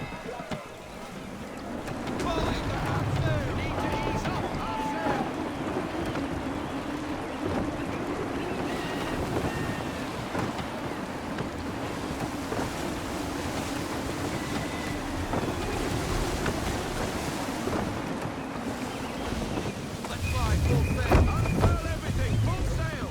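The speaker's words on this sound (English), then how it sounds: "Wind looks to be shifting. Stay alert, Connor. Gusty winds can be difficult to manage." Gusty wind and waves roll steadily around a sailing ship at sea in Assassin's Creed 3, with a constant whooshing and water wash that swells louder near the end. A voice speaks over it.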